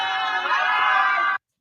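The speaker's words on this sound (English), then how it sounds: "they booing her" A crowd lets out a sustained, loud collective boo that holds steady for over a second and then cuts off abruptly.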